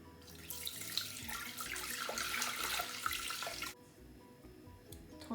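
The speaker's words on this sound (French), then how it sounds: "Alors je vais commencer à mettre 300 g d'eau." Water poured into a bowl for baguette dough, 300 g of it, a steady close splashing stream for a few seconds, then stopping abruptly with faint drips and handling noises.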